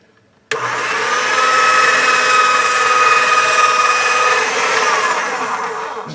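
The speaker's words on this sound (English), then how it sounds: "I'm going to roll it through at the thickest setting on my pasta machine." Polymer clay fed through a pasta machine at its thickest setting, a loud continuous mechanical whir that starts abruptly and holds steady for several seconds, close up with no talking.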